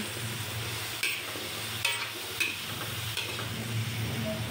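Squash being sautéed and stirred in a pan gives a steady low sizzle, with a few sharper scraping strokes standing out every second or so. No one talks.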